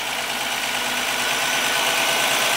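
A Ford Sierra XR4i V6 engine runs close by with a rough, uneven idle, a steady mechanical hum with faint knocking pulses throughout and no talk.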